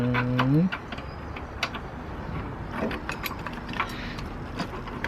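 A 10 mm bolt being loosened in the engine bay of an EP3 Type R, heard as scattered metallic ratcheting clicks and taps, moderately close, over a steady low background rumble.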